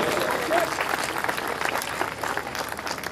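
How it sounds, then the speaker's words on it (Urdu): Audience applause at a grand opening ceremony: sustained, dense clapping from a crowd fills the whole stretch at a steady level. "بہت بھرپور تالیاں ہونی چاہیے یو ایف جی کے لیے اور کے ایس ایل تھری کی مینجمنٹ کے لیے"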